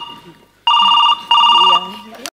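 An electronic telephone rings twice in quick bursts, loud and close, with faint background voices between and after the rings.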